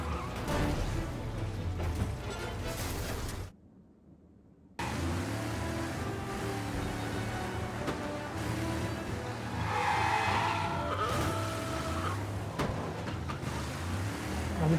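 A car in the video game Mafia: Definitive Edition brakes and skids, tires squealing over a steady engine drone, with a brief dropout partway through and a longer tire screech later on.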